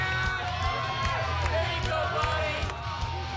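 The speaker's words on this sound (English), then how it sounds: "the crowd barrages him with taunts before he even folds his hand" A poker tournament crowd jeering and taunting a player at the table, a dense mix of overlapping shouts, whoops and voices rising and falling close by.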